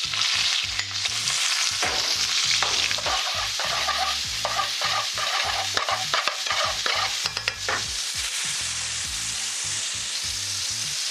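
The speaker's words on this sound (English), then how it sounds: "Now I just want to soften these onions in the ghee and the tomatoes and turn the heat down" Onions and tomatoes fry in hot ghee in a pan, a continuous close sizzle broken by repeated stirring scrapes and clatters from the utensil against the pan.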